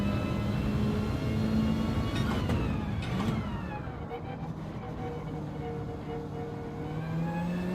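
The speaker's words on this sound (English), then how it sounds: "it sounds like someone's dragging tin cans along behind the car." A Gran Turismo 7 race car engine drones steadily at the Nürburgring with a loose, tinny rattling like dragged tin cans layered over it, and sharp tonal sweeps cut through midway; a voice murmurs faintly underneath.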